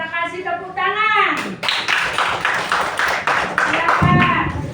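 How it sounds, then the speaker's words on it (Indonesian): A primary school class claps hands together in a classroom, a burst of brisk, loud clapping lasting a few seconds after a teacher's spoken prompt, with voices around it. "Coba kita kasih tepuk tangan."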